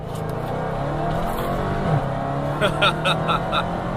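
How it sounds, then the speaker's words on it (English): A 707-horsepower Dodge Challenger Hellcat accelerates hard in second gear, its engine roaring loudly and continuously close by, with a rising tone and a few sharp pulses near the end. "So let's flick it down into second gear, mash the pedal."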